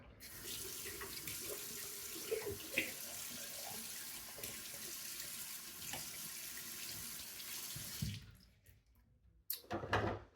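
Tap water runs steadily into a sink while a razor is rinsed during a shave, a close, even rush for about eight seconds before it quiets, followed by a few brief clatters.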